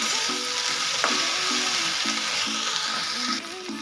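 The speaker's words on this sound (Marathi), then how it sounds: "आता हे छान आपण व्यवस्थित मिक्स करून घेऊया" Okra masala sizzles loudly in a frying pan while a spoon stirs and scrapes through it in a quick, regular rhythm, close up and without voices.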